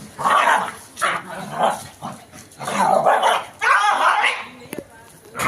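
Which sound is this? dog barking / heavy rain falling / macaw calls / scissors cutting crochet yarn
dog barking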